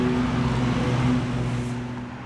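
City traffic with a car droning past nearby, a steady engine hum with a low tonal whine that slowly fades as the vehicle moves away, no talking.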